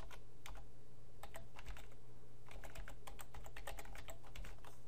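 Typing on a computer keyboard, quick irregular bursts of clicking keystrokes with short pauses between runs, close and clear over a faint steady hum, with no talking.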